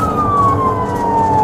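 A police car siren wails during a US high-speed chase, loud and continuous with a slowly falling pitch over a low rumble of engine and road noise.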